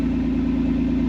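Electric bike hub motor under throttle in manual mode with a rail controller, a steady, loud, close hum with a constant low whine, unbroken for about a second, no voices.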